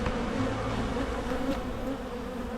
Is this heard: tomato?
no